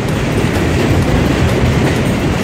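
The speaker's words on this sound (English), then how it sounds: "Going to go up to take the train." A New York City subway train runs at full speed, a loud, continuous roar with rattling wheel clatter that fills the whole stretch.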